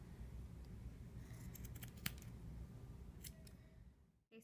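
Scissors snipping the yarn ends off a small woven wall hanging, a few faint, sharp clicks over quiet room noise.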